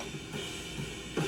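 Drum overhead microphones with no high-pass filter on a live worship-stream mix, a steady full-bodied kit wash with heavy low end and a louder hit near the end, no talking.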